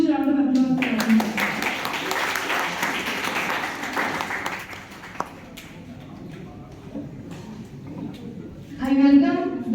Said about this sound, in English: Please put a huge round of applause for her.